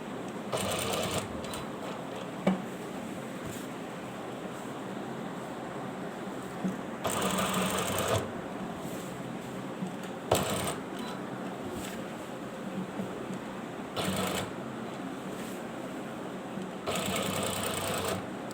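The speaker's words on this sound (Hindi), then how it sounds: "वी शिकल में सिलाई लगानी है" A sewing machine stitching a shirt cuff runs in short, loud bursts of a few seconds each, separated by quieter pauses, with a steady mechanical whir during each run.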